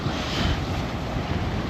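Strong wind rushes across the microphone aboard a sailboat on an ocean crossing from the BVI to the Azores, a continuous broadband roar mixed with the wash of waves, with no one speaking.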